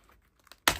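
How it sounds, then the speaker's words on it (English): A keyboard pried out of an HP EliteBook G7 830/835 laptop: a few faint plastic ticks, then one sharp loud snap as the clips release, close up and with no talk. "this is how the keyboard will come out"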